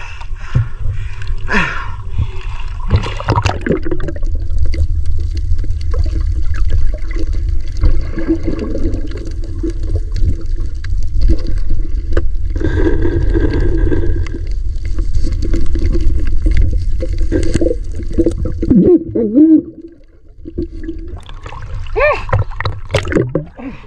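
Rough sea waves while out fishing from a small boat, with low rumbling water sloshing and gurgling against the hull steadily and loudly throughout, and some scattered knocks and movement.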